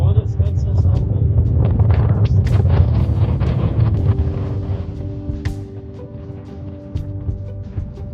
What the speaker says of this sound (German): der Wind blies uns dann mit ca. 45 Stundenkilometern entgegen.